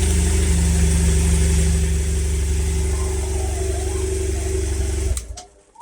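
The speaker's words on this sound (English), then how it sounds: "Hopefully it's not a lazy starter motor." A BMW 650 motorcycle's starter cranks on a weak battery, giving a steady, loud, even whirring drone that cuts off abruptly near the end, leaving a faint tail.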